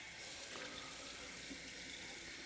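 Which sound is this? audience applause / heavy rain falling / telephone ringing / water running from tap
water running from tap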